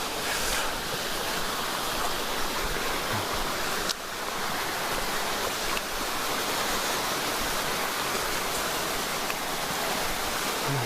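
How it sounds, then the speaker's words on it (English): Water gushing outdoors on a December water walk, a steady, loud broadband rush that holds evenly throughout with no one talking. "it was kind of gushing water there for a while"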